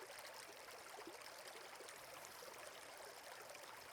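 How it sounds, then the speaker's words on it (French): A forest stream flows in a steady, soft rush and trickle of water, continuous and even throughout, faint and heard alone with no voices. "Le ruisseau continue de couler paisiblement"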